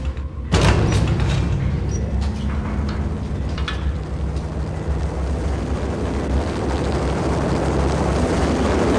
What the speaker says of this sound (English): The unmarked chopper was Horn's pet guardian, inhuman and flawless.